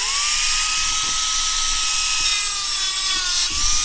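A power tool cutting a tonneau cover, a steady high-pitched whine running continuously and close by for a few seconds, with faint clicks underneath.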